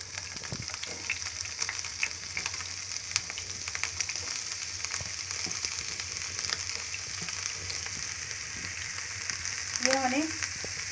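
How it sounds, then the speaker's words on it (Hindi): Onion frying in oil in a pan while a paneer curry masala is prepared, giving a steady close sizzle with occasional stirring scrapes throughout. "यह मैंने 1 बड़ी साइज का प्याज डाला है यहाँ पे। इसे हम ब्राउन होने तक फ्राई करेंगे।"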